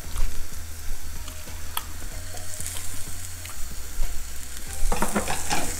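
Cockle meat fries in a pan while being stirred, a steady close sizzle with regular scraping strokes of the spatula and a few louder clatters near the end.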